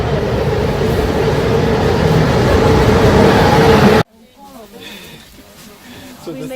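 Train travelling out of Bucharest, a loud continuous rumble and rattle of carriages on the rails for about four seconds that cuts abruptly to quieter ambience.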